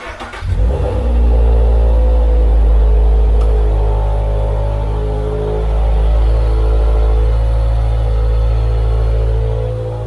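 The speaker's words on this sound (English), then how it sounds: "start it for me, and then give it a little gas to see what happens" A 2022 Subaru BRZ fitted with an HKS Super Air Filter starts with a quick crank and then settles into a loud, steady idle that swells gently under light throttle, close by and with no talk over it.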